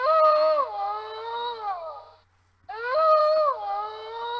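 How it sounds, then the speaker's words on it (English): Hungry hounds howl and whine in two long, wavering, close and loud cries separated by a short pause, with no talk over them. "so looks like the hounds are hungry"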